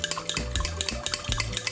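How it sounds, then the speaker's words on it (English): Egg and melted butter whisked into a mixture in a bowl, quick rhythmic clinking and scraping strokes of the whisk against the bowl, close and steady, with no voices. "we're going to go in here with 1 egg, melted butter. You want to whisk"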